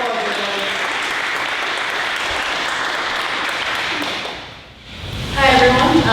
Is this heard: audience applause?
yes